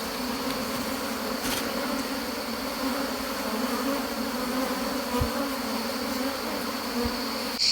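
Wild forest bees hum steadily around a hive in a tree hollow, a dense continuous buzzing close up that fills the whole stretch, with a couple of faint knocks.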